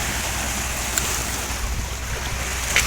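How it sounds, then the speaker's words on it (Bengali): Waves on the Meghna river churn near the bank while sand-carrying trawlers pass, making a loud, continuous rushing wash with wind-like roar and no voices. "আর দেখুন কি পরিমাণ ঢেউ নদীতে"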